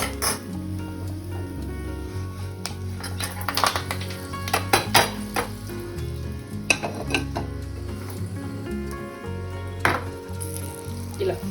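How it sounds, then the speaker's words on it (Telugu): Fried tempering with curry leaves scooped out of a pan into a separate bowl: repeated metallic scrapes and clinks of a spoon over a low background hum, close and fairly loud, with no clear talking. "సో ఇవన్నీ మంచిగా ఫ్రై అయిపోయింది కాబట్టి ఇదంతా మనం వేరే గిన్నెలో వేసేద్దాం"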